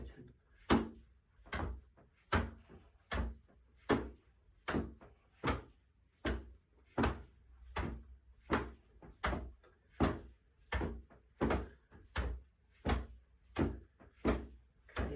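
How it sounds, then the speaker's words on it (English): Regular knocks of fists against the body, about sixteen evenly spaced thumps in a steady bouncing rhythm, close and fairly loud, with no talking over them. "So knock as you bounce"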